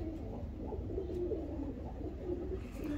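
Pigeons coo softly in a breeding loft of a Dubai pigeon club, low throaty burbling calls repeating in a steady murmur over faint background hum, quiet and close.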